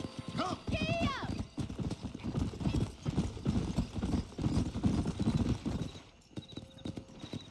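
Horse hooves clip-clopping steadily while riding in the Red Dead Redemption video game, with a horse whinny near the start and people talking over the hoofbeats throughout.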